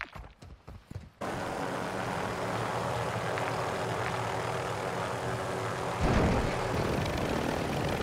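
A helicopter in the Warzone 2 video game, heard as a loud, steady rotor and engine roar that starts abruptly after a second of clatter and swells again toward the end.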